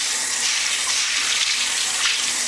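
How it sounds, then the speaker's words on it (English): Cold tap water runs steadily over dried beans being rinsed, a continuous close splashing gush with no voices. "now we're going to rinse these under some cold water"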